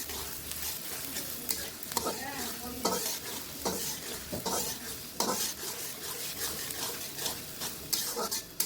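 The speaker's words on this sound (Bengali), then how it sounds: "তারপরে আমরা পেঁয়াজ বেরেস্তার জন্য পেঁয়াজটা দিয়ে দিলাম ঘি দিয়ে" Onions sizzle steadily in hot ghee, frying down into crisp beresta for a chicken roast, while a spoon scrapes and stirs the pan at irregular intervals throughout, close and fairly loud with no talking.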